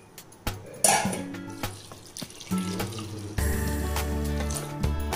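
Water runs and splashes steadily into a cooking pot while dal is prepared for a Rajasthani festive thali, a continuous pouring flow with clinks from the pot.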